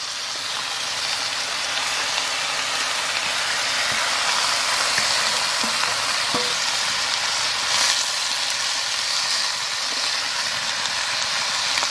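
Vegetable curry frying in a kadai, a loud continuous close hiss and sizzle of the wok, steady throughout with a few faint clinks.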